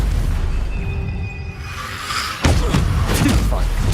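Stupefy spell cast in the video game Hogwarts Legacy, a sudden loud thudding blast cutting through dense combat noise and continuing as a heavy rumble.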